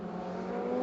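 A Ferrari Challenge race car with blue and orange livery circling the Indianapolis track during a Coppa Shell race, its engine a steady sustained drone that builds slightly in loudness, heard without voices.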